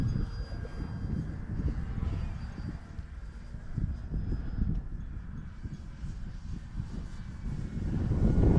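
An E-flite Clipped Wing Cub RC plane flies over a model flying club field, its electric motor a steady, fairly faint drone under wind noise, building slightly toward the end.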